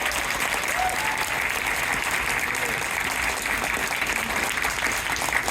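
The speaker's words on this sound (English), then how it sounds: "I want to give everybody out there a big round of applause" Sustained audience applause at a closing panel, dense and steady clapping from a large crowd filling the space throughout with no break.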